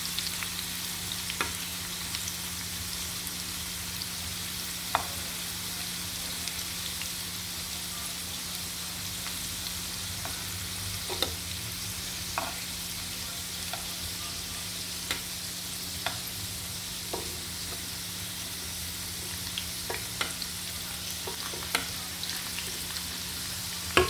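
Potatoes fry lightly in oil in a pan, a long, even crackling sizzle with scattered small pops and occasional faint utensil ticks, nobody speaking.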